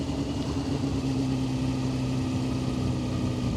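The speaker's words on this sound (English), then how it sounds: "I'm hoping sound of this engine's coming through as well," Engine of a stock Honda CBR600F motorcycle fitted with a Micron exhaust, a steady low droning hum that holds evenly throughout, close and continuous with no talk over it.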